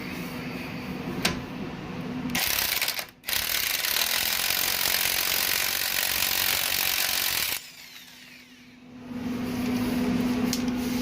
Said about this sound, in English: go ahead and get your impact gun on it